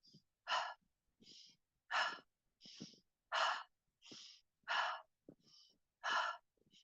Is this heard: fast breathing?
yes